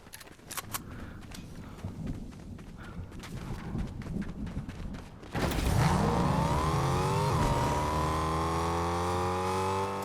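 A car in the Fortnite video game starts up partway through, its engine rising in a steady revving pitch over earlier clattering game sounds, loud and close.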